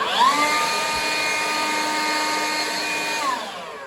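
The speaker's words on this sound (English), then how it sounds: "Let's see how a leaf blower does." A leaf blower blows dirt out of a shed, a loud, steady motor whine with a high tonal hum that holds evenly before easing slightly at the end.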